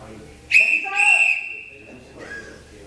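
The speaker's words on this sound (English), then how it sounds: "And I have my whistle." Two sharp, shrill referee's whistle blasts in quick succession at a boxing match, loud and close, followed by a softer, fainter whistle tone fading out.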